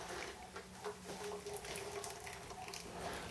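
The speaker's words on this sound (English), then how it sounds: "I've added the water up to the 6-gallon level, or close to it" Tap water pours steadily into a wine fermenting bucket, filling it to about the six-gallon mark for a dark chocolate orange port wine. The rushing splash continues evenly, close by and quiet, with no voices.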